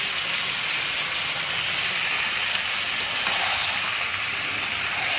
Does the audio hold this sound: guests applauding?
no